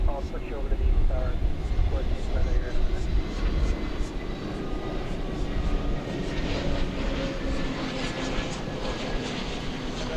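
An airliner takes off at DFW airport, a broad, steady jet engine roar that holds loud through the whole stretch and thins slightly toward the end, with chatter faintly under it.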